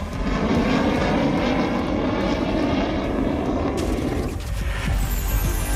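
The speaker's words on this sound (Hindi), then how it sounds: "लड़ाकू विमानों की रिहर्सल का लिया जायजा" Fighter jets fly over the Purvanchal Expressway airstrip at Sultanpur during an air show rehearsal, a loud continuous jet roar that stays steady and close throughout, with a crowd present.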